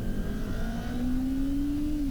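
A small engine revs up, its pitch climbing smoothly and holding high, heard close by with a steady mechanical buzz underneath and no talking.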